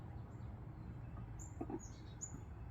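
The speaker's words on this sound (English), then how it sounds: "especially the little birds like the chickadees, you can hear them, they're tweeting up" Chickadees at a backyard feeding station give a few faint, high tweets and chirps over a soft outdoor hum, with short calls scattered through the quiet.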